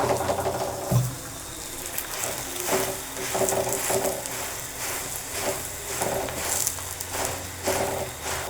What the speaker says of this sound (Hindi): पराठे को चलाते रहना है ताकि एक जगह से जल ना पाए।